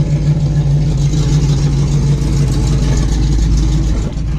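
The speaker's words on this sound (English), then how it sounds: "You can't even hear my car idle anymore." A car engine runs at a steady idle, a constant low hum and rumble close by, with no talking.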